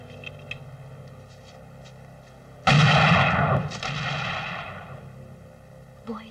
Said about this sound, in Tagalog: Si Mang Agno, dapat may dalawang putok pa.